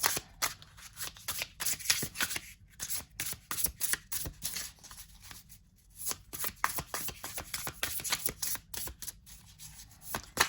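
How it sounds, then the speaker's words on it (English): A Superlunaris tarot deck is shuffled by hand again and again, with rapid crisp riffling and slapping card sounds in bursts and short pauses across the span, close and clear with no talking. "Let's make sure these are nice and shuffled before we try to pull the card."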